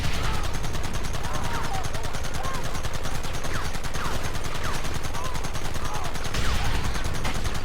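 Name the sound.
gunfire in the video game Red Dead Redemption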